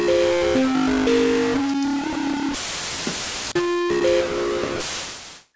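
Bit depth reduction distortion: harsh, grainy digital noise smears over a simple synth melody, with hissy static bursts swelling between notes and briefly cutting out.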